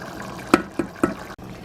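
Rice boils in water in a pot on the stove, giving a few distinct bubbling pops, three close blips spaced about a quarter second apart over a quiet background simmer.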